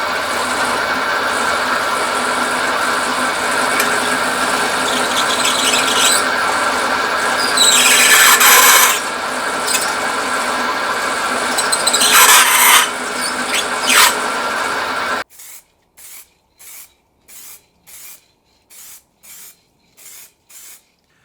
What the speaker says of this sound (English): Let's use my drill press for this job.